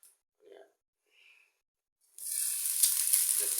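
Mustard oil heats in a pan for egg rice and breaks into a loud, close, continuous sizzle after a few faint soft sounds.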